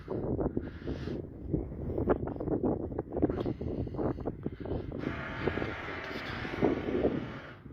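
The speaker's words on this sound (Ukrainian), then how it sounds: "Цей будиночок у продажу, вітер віє." Wind gusting across a house construction site, producing rough, buffeting microphone rumble and rustling that continues throughout, with the noise swelling louder in the second half.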